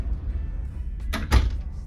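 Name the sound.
cruise ship cabin door closing by itself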